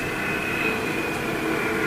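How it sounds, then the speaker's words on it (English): Airplane flying overhead, a steady droning engine roar with a constant whine, moderately loud and unbroken throughout. "That's a plane flying overhead."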